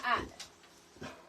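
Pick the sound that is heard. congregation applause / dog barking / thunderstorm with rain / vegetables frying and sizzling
dog barking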